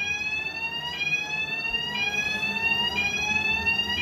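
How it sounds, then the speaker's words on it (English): Steady electronic fire alarm tones ring on uninterrupted with no voices, several alarms layered and sustained at moderate loudness. "these alarms have been going off now for"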